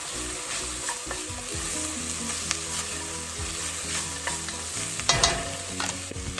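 A spoon stirs salt-and-pepper-seasoned soup base for lentil kale soup in a pot over the heat, with a steady scraping and sizzling bed and a few sharper clinks of the utensil against the pot, close and unaccompanied by talk.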